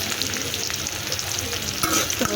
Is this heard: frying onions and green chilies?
yes